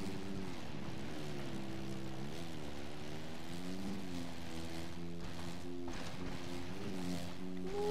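Dirt bike engine in the MX vs ATV Legends video game, a steady buzzing drone that rises and falls in pitch with throttle throughout, loud and continuous with no talk.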